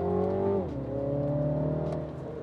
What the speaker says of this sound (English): the exhaust livens up a bit